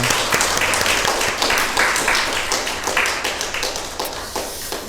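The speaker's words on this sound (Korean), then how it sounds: "오늘 참 오신 분들 위해서 박수 한번 하겠습니다" An audience at a church festival claps together in loud, continuous applause that tapers gradually over about five seconds.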